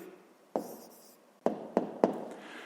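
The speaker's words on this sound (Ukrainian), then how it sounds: "Ну і записуємо тоді відповідь. Пишемо відповідь." Pen strokes on paper as a math answer is written down for a fifth-grade exercise, a few sharp separate scratches over a quiet room, close and fairly soft, no talk.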